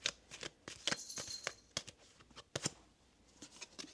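Tarot cards are shuffled by hand in a quiet room, a run of quick crisp riffles and soft card slaps in uneven bursts, close and fairly faint.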